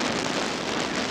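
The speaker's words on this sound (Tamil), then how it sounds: "ஆனால் மழை நிற்கிற மாதிரி இல்லை, மழையும் பெஞ்சிக்கிட்டே தான் இருக்குது" Steady rain hissing continuously during a ride on an Apache RTR 160 4V motorcycle, a dense, loud wash of noise with no pauses and no voices.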